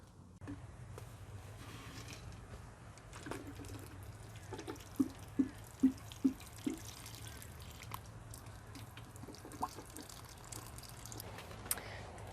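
Water from watering a newly planted tomato seeps into a small earthen dam of soil around the stem, heard as a soft steady trickle with a short run of quiet drips over outdoor background noise.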